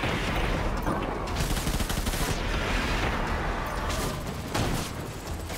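Rapid, sustained gunfire in the video game Death Stranding, during a World War One boss battle: dense, loud bursts of shots rattle on almost without pause for several seconds, with a few heavier volleys.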